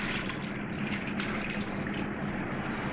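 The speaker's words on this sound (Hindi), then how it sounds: "पानी डालूँगी इसमें।" A steady rush of water pours continuously into a cooking pot of salt, onion, garlic, ginger and whole spices for yakhni pulao, a close, even gushing sound with no voices.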